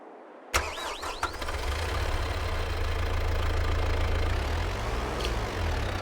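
A tractor engine in Farming Simulator 22 cranks and catches with a sharp start, then settles into a steady, low, rumbling idle that stays close and even.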